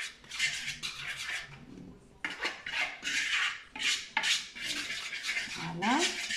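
Spice powders stirred and scraped in a cooking pot for a spiced sausage goulash, a steady run of metallic scraping and clinking bursts, close and fairly loud, with no talking.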